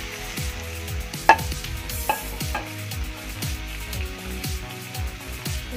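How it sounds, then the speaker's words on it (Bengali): Banana flower curry cooking in a pan, with steady stirring scrapes and a soft sizzle, plus a couple of sharp clinks of a utensil against the pan; the sound of water being poured in is not clearly distinct. "এর মধ্যে আমি এখন সামান্য জল দিয়ে দিব।"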